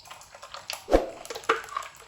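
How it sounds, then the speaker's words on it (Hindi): Hot milk is poured into a jug for a milk drink, giving close, splashy liquid bursts with a couple of sharper pours and drips, and no talk. "अब ये मैं थोड़ा सा जग के अंदर दूध गर्म डाल के"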